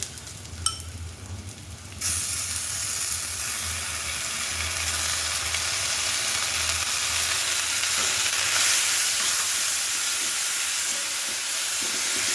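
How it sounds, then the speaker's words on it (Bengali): Ginger, garlic and green chili paste hitting hot oil with browned onions, a quieter rattle giving way after two seconds to a loud, steady sizzle and hiss that holds without pause. "এরপর দিয়ে দেবো আদা রসুন কাঁচা লঙ্কা পেস্ট"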